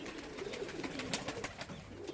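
Pigeons cooing softly on a roof, a low steady murmur of overlapping coos running throughout at moderate distance, with no talk over it.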